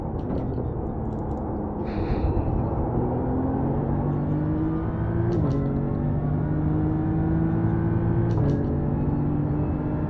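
Race car engine droning at Road Atlanta during Petit Le Mans from the cockpit of a BMW GT3, as a faster class car closes in from behind. The pitch climbs steadily and drops back at two gear shifts.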